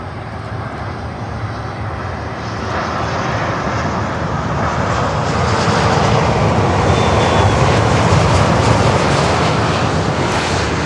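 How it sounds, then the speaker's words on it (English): An American Airlines Boeing 787-8 Dreamliner passes at an airport, its loud broadband jet roar building steadily and staying strong throughout, with no voices. "Baby liner 787-8 American Airlines"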